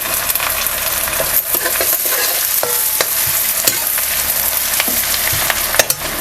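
Finely chopped garlic fries in hot oil in a pan for an egg biryani, a loud, steady sizzle close by with occasional scraping stir sounds and no talking.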